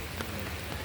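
Steady rain pours down outdoors at an eco park, a dense, even hiss of drops on surfaces filling the short stretch without pause.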